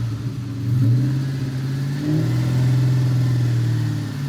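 A Terminator Cobra Mustang with an engine noise runs as the car drives off, a loud, close, steady low engine drone with slight rises as it pulls away, no talking.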